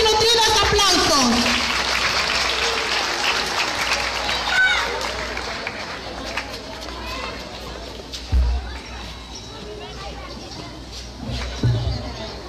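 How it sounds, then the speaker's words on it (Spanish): Audience applause welcomes a teacher and technical advisor at a primary school ceremony, a dense burst of clapping at the start that thins under ongoing speech and crowd shuffling. "Recibámosla pues con fuertes y nutridos aplausos"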